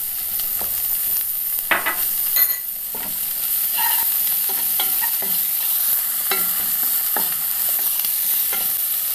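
Onions fry in a pan for a tomato chicken curry, a soft steady sizzle with scattered scraping taps from stirring, close and fairly quiet.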